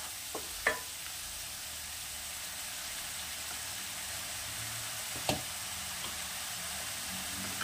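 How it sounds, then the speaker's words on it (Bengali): Onions frying in a pan, a steady hiss of oil with a couple of light knocks from stirring, close and fairly quiet. "পেঁয়াজটা একটু নাড়াচাড়া করে নেব।"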